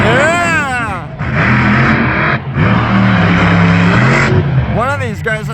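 Monster truck engine roaring at Elko Speedway, loud and close, surging and revving in sustained bursts with brief dips, crowd and voices mixed in underneath.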